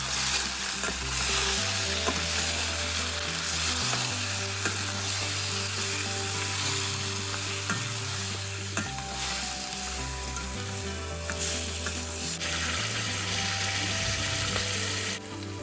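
Chicken sizzles steadily in hot oil in an Andhra-style chilli chicken pan, with close, continuous frying crackle and occasional scraping stirs, no talking.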